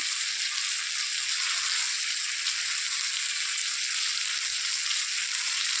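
Fish frying in hot oil in a home kitchen, a steady, dense sizzle that holds evenly throughout at close range with no talking.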